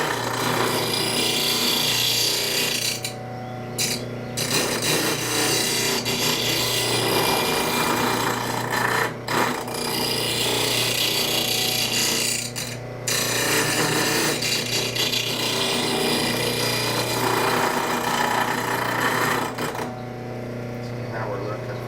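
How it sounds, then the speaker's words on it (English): A bench grinder sharpens the curved blade of a travisher, a chair-making spokeshave, giving a continuous loud rasping grind that has a steady motor hum beneath it and brief drops as the blade is lifted away. "right there is where the grinder's hitting"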